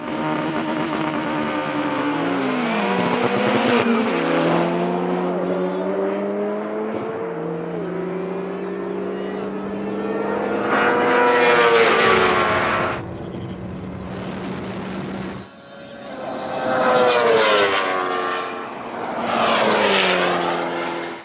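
A BMW S1000RR superbike, a McLaren 720S and an Ariel Atom 4 line up for a drag race, with loud high-revving engines accelerating and shifting through gears, roaring close by and then fading.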